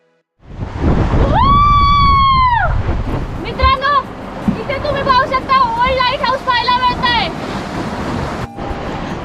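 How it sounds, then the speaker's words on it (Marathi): Loud rushing sea surf surges and booms close by as waves force into a rock cavity, forming a natural fountain, while raised voices call out in drawn-out tones over the churning water. "समुद्रातल्या रॉक्समध्ये कॅव्हिटी फॉर्म झाल्याने लाटा त्यामध्ये येऊन एक नॅचरल फाउंटन तयार झालं होतं"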